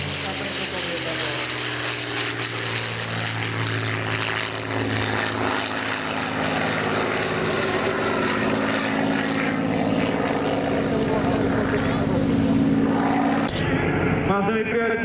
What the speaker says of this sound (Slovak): 1700 konských síl nad našimi hlavami v premiére na letiskej Slávnici. Lietadlo Spitfire.